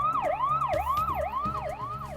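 An ambulance siren wails in a fast, repeating rising-and-falling sweep, loud and close, with a low engine rumble underneath and no talk over it.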